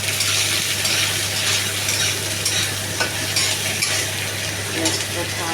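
Onions frying in hot oil give a loud, steady sizzle close up, crackling and hissing without pause, with occasional light clinks of a utensil stirring the pan.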